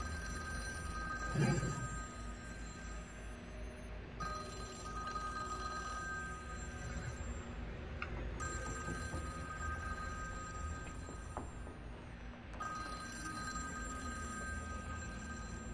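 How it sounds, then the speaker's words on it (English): An old-style telephone bell rings in a horror video game, repeated bursts of ringing separated by short pauses, moderately loud over a low ambient drone, with a brief thump early on and no talk. "phone's ringing."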